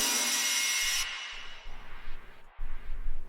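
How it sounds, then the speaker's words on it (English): A reverse crash cymbal swells loudly with a bright hiss and then cuts off, leaving a white noise sweep that fades out, over low, choppy rumbles that get stronger toward the end. "leading into the first drop is just a reverse crash"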